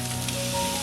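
Shrimp go into a steadily sizzling seafood curry with coconut milk, a brief, even hiss of frying close by with no talk.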